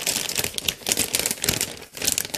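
Plastic bag around an ASUS H110T motherboard crinkles and rustles as it is unwrapped, a close, continuous crackling with several brief lulls and no voices.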